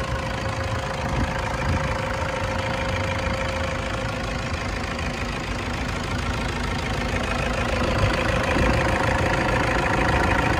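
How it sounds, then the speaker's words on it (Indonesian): A steady, even idle from a 2014 Toyota Fortuner TRD VNT diesel engine runs throughout, a constant low rumble with a faint ticking texture and no change in pace. "mesinnya juga halus suaranya, kering, tidak ada rebusan oli"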